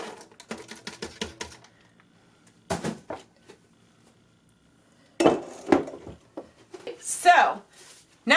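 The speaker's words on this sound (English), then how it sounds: "So we're going to add 50 cents worth of peas." Dry peas pour into a soup pot in scattered bursts of light rattling and clinking, with pauses between pours and a final rush of patter near the end.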